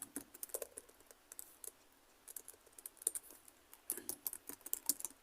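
Quiet keyboard typing on a computer during HTML coding, irregular bursts of soft key clicks with short pauses between, no voices.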